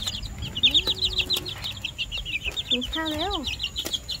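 A flock of chickens with chicks clucks and cheeps nearby, with a steady stream of high peeping running throughout and a few lower hen calls breaking in, while someone speaks briefly.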